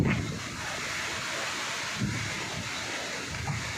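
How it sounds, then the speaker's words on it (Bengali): Strong winds during Cyclone Remal roar steadily across flooded paddy fields, buffeting the microphone with a constant loud rush and occasional gusty swells. "প্রচণ্ড বাতাস যেটা আপনারা লক্ষ্য করতে পারতেছেন"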